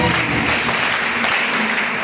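A church congregation claps together in a steady, dense burst of applause lasting a couple of seconds, fairly loud and without speech.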